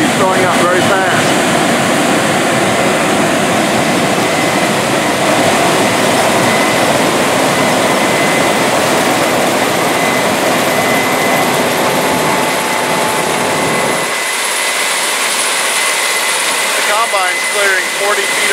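A Case IH 9240 combine, a 550 horsepower machine with a 16-row, 40-foot corn head, harvests corn with a loud, steady engine and threshing roar. The sound holds constant throughout, with a low-end drop near the end.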